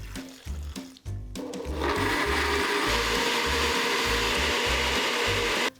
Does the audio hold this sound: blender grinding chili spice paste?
yes